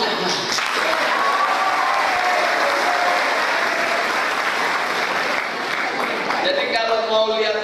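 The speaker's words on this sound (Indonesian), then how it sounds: "Tepuk tangan." Sustained applause from a large audience at a regional youth student organization assembly, dense and steady for most of the stretch, with a voice beginning to speak over it near the end.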